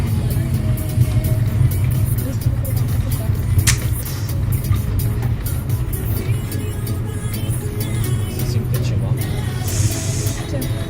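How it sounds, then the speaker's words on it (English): Car wheels roll along the road while driving, a constant low rumble and road roar that stays loud and even throughout, with a few faint higher clicks on top. "you can probably hear the wheel"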